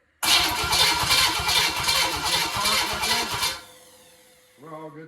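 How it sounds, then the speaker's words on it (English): A big block engine cranks over with a loud, fast, rhythmic starter churn for about three seconds, then cuts off, followed by a brief humming tone. "that'll tell us whether we got spark while cranking it"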